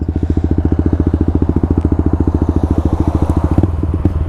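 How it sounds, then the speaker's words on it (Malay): A motorcycle engine runs loud and close in a steady rapid pulsing thrum, with a brief change in tone near the end as it shifts gear, a light crackle over the top. "okay let's go the first gear second gear third gear"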